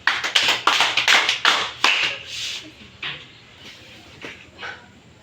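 Students in a Filipino-language demo teaching class give five rhythmic group claps, sharp and close, in a quick burst followed by a few scattered, fading claps, with no talking over them.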